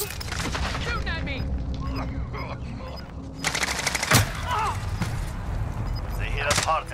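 Gunfire rattles in the video game Warzone, with bursts of automatic shots and sharp single cracks, loud and close, mixed with game voices and effects.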